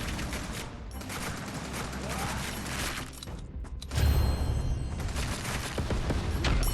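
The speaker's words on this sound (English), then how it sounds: "That was that epic one we just got where it shoots the bullets everywhere" An epic video-game weapon sprays bullets everywhere in rapid, continuous bursts, a dense crackling stream of gunfire that swells louder partway through.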